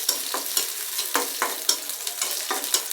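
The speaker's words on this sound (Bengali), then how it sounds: "এখন আমি পেঁয়াজটা ভেজে নেব।" Onion frying in oil crackles with a steady sizzle, punctuated by regular scraping stirs every half second or so, close and clear with no voices.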